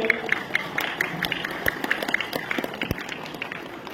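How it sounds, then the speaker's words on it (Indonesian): An audience at an Indonesian religious lecture claps and applauds in a steady patter of many hands, fairly distant and moderate in level. "Kasih tepuk tangan dulu ibu."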